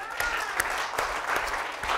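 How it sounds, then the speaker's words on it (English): Audience applause during a talk naming an academy, a steady wash of clapping with some sharper individual claps standing out, fairly close and continuous for the whole stretch. "Let's give them a round of applause."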